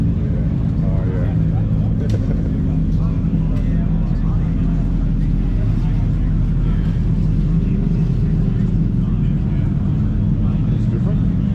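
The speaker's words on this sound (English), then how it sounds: "Slow down a little bit on the bikes." Motorcycles riding at a motorcycle meet, with a loud, continuous engine rumble that stays close throughout and a couple of brief sharper accents, while people talk over it.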